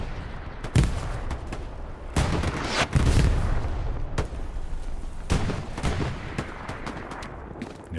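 In Hell Let Loose, an MG42 machine gun fires in sharp rattling bursts mixed with heavy grenade blasts, a loud battlefield din with several distinct booms spread through the stretch.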